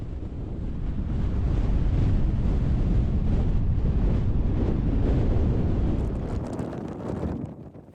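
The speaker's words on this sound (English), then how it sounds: "We're going back out in the wind." Strong wind gusts across open desert ground in Death Valley, buffeting the microphone in a loud, continuous rumbling roar that eases off toward the end.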